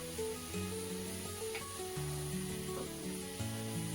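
Kharik (dry date) sheera sautéing in ghee with a spoonful of sugar, a faint continuous frying sizzle with soft occasional stirring, no talk.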